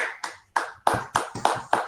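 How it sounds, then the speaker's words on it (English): Sparse hand claps welcome a guest speaker at an online printing-industry webinar on artificial intelligence: about seven sharp, separate claps at an uneven pace, close and clear, from what sounds like just one or two people, with no talking. "Let's give him the huge round of applause"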